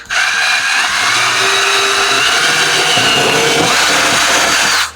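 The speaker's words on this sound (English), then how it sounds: "for the elbow, we're going to drill a little hole big enough for the air line" Power drill boring a small hole through a plastic elbow fitting for an aquarium air line, a loud continuous whine with grinding texture for several seconds, close up and without talk.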